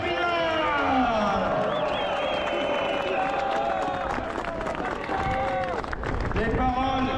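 Outdoor crowd at a Paris peace march applauds Jacques Cheminade, scattered clapping and cheers mixed with amplified voices and crowd babble.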